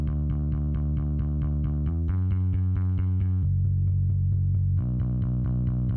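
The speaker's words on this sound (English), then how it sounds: "Sounds like MIDI bass." A synthetic bass line alone, pulsing repeated notes with a buzzy, evenly compressed tone that shifts pitch every couple of seconds.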